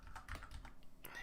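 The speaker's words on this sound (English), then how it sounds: "I'm just typing in Discord at the same time." Rapid, uneven clicking of a computer keyboard during typing in a chat app, close and moderately loud, with faint background voice underneath.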